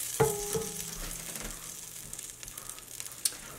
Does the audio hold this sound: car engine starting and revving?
no